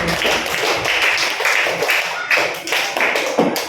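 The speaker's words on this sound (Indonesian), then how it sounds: "kasih tepuk tangan" A classroom audience claps on cue, uneven bursts of hand claps rising and falling for a few seconds, fairly close and loud.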